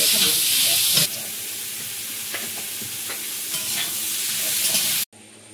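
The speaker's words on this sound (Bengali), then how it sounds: "গাজর ক্যাপসিকাম সব একটু ভেজে নেবো, একটু করে নুন দিচ্ছি এর মধ্যে" Carrots and capsicum frying in a pan with salt give off a loud, steady sizzle with brief stirring scrapes, then cut off abruptly near the end.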